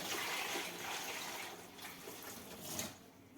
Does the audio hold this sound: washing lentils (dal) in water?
yes